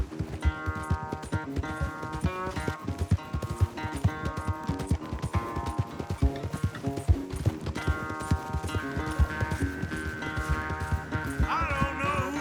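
Rapid, rhythmic hoofbeats of a galloping horse in Red Dead Redemption 2, loud and continuous throughout a race, with music playing underneath.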